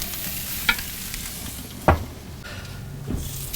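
Pork chops brined in molasses and cinnamon sear on a grill with a steady, quiet sizzle, broken by a few sharp clanks of tongs or grate near the start and middle.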